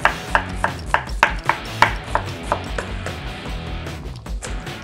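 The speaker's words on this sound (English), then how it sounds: "We're gonna thinly slice one red onion." A knife thinly slicing a red onion on a cutting board for a Mediterranean sandwich, with a quick, regular series of crisp chopping taps that soften into lighter cuts, close and loud with no talking.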